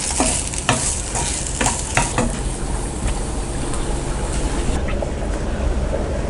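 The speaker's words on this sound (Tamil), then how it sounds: "நல்லா பிரட்டி விடுங்க." Fried raw banana slices stirred in a pan make loud, close scraping and clattering strokes, several in quick succession at first, over a constant dense frying sizzle that carries on to the end.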